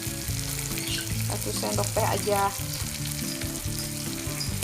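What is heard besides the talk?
stir-frying spices and petai beans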